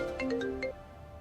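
A phone rings on an outgoing call, a short melodic ringback tone of a few clear beeps, close and alone, before it stops into quiet room background.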